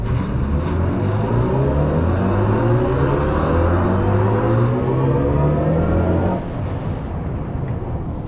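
A BMW i5 M60 electric sedan in boost mode accelerating hard, a loud rising motor whine climbing steadily in pitch for about six seconds before dropping to quieter road and wind noise.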